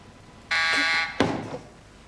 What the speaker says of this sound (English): Try your buzzer again, Joe.